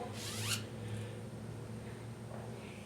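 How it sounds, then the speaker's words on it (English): A single quick zipper pull near the start, a short bright rasp, followed by quiet room tone with faint rustling. "It's a zipper."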